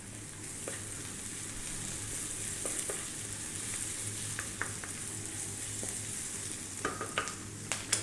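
Fresh ginger and chopped garlic sizzling in a pan for a potato and eggplant curry, a steady close frying hiss with scattered sharp pops and spatters throughout.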